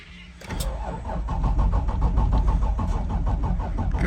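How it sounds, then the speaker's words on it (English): A Toyota Avalon engine cranking and starting, with a click and then a close, loud, rapid rhythmic cranking that carries on steadily. "Give it some gas."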